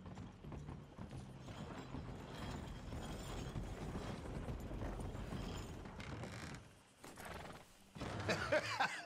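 Horse hooves clop steadily over a dense ambient bed in Red Dead Redemption 2, briefly dropping away before a whinny-like burst near the end; game-style audio.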